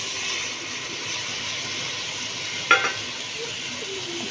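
Tomato dropped into a hot frying pan on a home stove, a steady soft sizzle running throughout with one sharp clink of a utensil partway through, and no talking.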